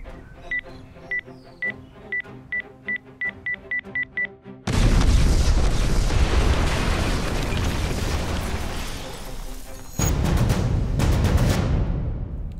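A bomb explosion sound effect follows a run of evenly spaced electronic beeps, erupting into a loud, roaring blast that rumbles on before a second burst hits and fades.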